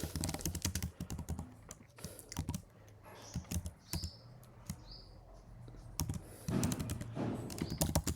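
Code is being typed on a computer keyboard in VS Code, close and clear, in irregular bursts of key clicks with brief pauses and a denser flurry near the end.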